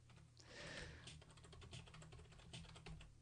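Rapid clicking of keys on a computer keyboard, steady close typing over a low background hum, with no voices.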